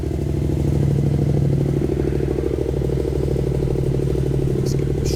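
A 2022 Yamaha R7 motorcycle idling with a Titan GP2 prototype exhaust, a steady deep throbbing rumble held at a constant loud level throughout, close up, with a couple of faint clicks near the end and no talking.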